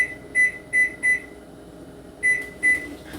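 A kitchen timer beeps in short, evenly spaced electronic chirps while it is being set, three quick beeps followed after a pause by two more, clear and close against a quiet room.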